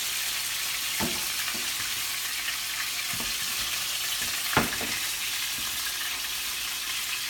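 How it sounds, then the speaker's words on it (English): A steady, hissing sizzle of scallops searing in a very hot pan, with a few soft clinks and taps, fairly quiet and continuous. "I want a screaming hot pan for my scallops."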